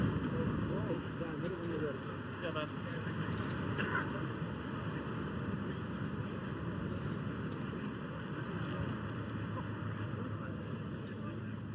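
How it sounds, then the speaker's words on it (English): Gusting wind across a links golf course at Carnoustie during The Open, a steady loud rushing roar buffeting the microphone throughout with no pauses. "And it's gusting."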